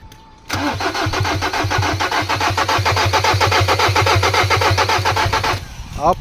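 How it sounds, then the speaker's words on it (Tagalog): A Ford Ranger 2.2 engine that stalled and won't start cranks over and over in a fast, rhythmic chug for about five seconds, never catching, then the starter cuts off. "subukan mong pandarin ang makina"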